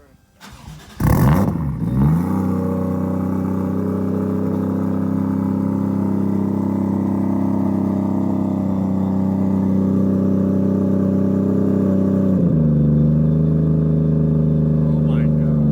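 A Toyota 1JZ VVTI engine catches on its first start with a brief cranking burst, then holds a loud, steady rumbling idle with a slight rev, dropping to a lower settled note near the end.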